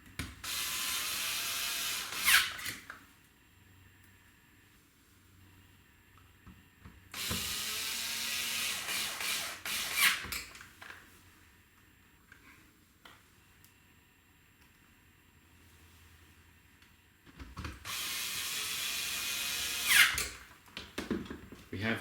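Electric screwdriver running in three separate bursts on the four screws of a Philips DCC car stereo board during reassembly, each whirring run lasting a few seconds with quiet handling gaps between.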